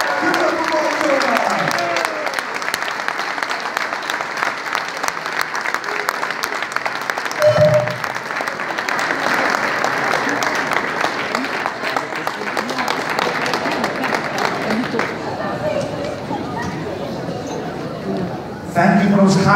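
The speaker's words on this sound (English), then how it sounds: "Give it up for Marjona." An audience at a Bronx political event applauds an Albanian-American assemblyman in a long, dense, even burst of clapping, with a few brief voices and thumps mixed in near the end.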